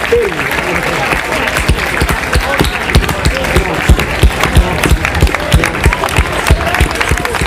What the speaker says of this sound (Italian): siamo noi adesso che vi facciamo un applauso per voi